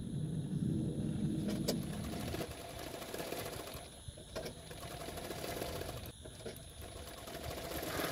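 Close up, a sewing machine stitches blouse fabric with a fast, steady mechanical whir, sewing a half-inch seam margin, brief pauses between runs, quiet and without talk.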